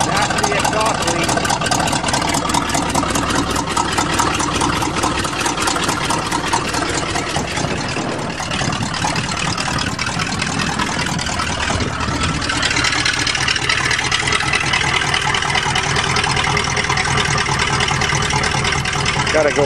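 A GMC truck with a 400 engine runs steadily with a leaking exhaust, loud and close, its rough ticking rumble continuing throughout with a slight change in tone midway.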